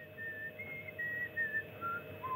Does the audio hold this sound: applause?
no